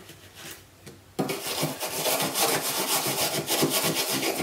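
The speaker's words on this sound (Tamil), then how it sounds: "இந்த மெட்டல் நார்ல இந்த லிக்விட் சோப்பு தான் வச்சு நான் யூஸ் பண்றேன்" A metal scrubber works liquid soap over a gas stove, first as a soft rub and then as loud, rhythmic, gritty scraping strokes up close.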